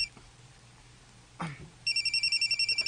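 A cellphone rings indoors in a room, its repeating electronic tone pulsing in a steady rhythm after a brief rustle, fairly loud and close with no talk over it.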